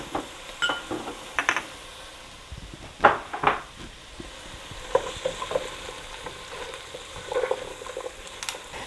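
Vegetables for minestrone soup sauteing in a pan, seasoned with salt and pepper: a low, steady sizzle with a few louder stirring scrapes and clacks scattered through, no talking.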